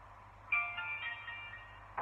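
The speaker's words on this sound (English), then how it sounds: "That's my mum ringing on that phone." A telephone rings faintly in a home, one electronic trill lasting about a second and a half with a brief start of another at the end, soft and slightly distant.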